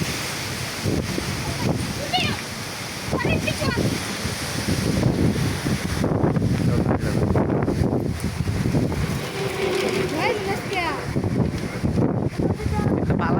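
Strong stormy wind gusts roar and buffet outdoors, rumbling heavily across the microphone, while people talk now and then beneath the noise.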